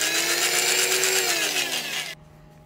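A DeWalt 3/8-inch high-power carpenters drill runs loud and steady for about two seconds, its motor whine sliding slightly downward before it cuts off abruptly, leaving near silence.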